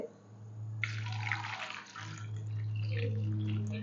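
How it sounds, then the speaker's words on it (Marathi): Hot water is poured over whole lemons in a home kitchen while preparing a sweet-and-sour lemon crush, a steady close splashing and trickling stream with no talk. "लिंबामध्ये आपण घालायचे गरम पाणी"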